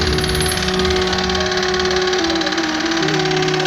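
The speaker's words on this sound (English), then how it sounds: "The engine makes a lot of noise." A Kia K5 hybrid engine runs loudly and steadily, a dense, unbroken mechanical drone with a persistent whine layered over it, close by and continuous throughout.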